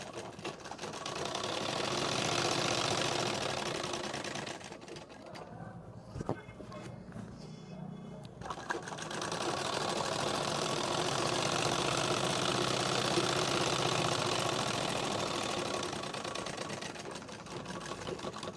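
A sewing machine stitches elastic onto a sharara with a steady, fast mechanical whir. It runs for several seconds, pauses briefly amid handling noises, then runs again at an even pace.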